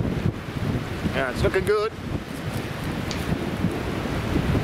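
Wind blowing outdoors, buffeting the microphone with a steady rushing roar throughout, while a voice speaks briefly over it near the middle.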